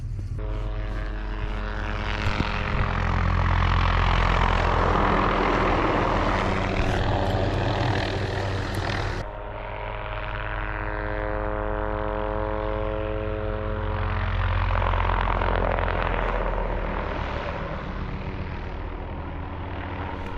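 A propeller airplane comes in to land near a fishing spot, and its steady engine drone and propeller hum grow loud and then ease slightly as it passes close by, with no voices over it.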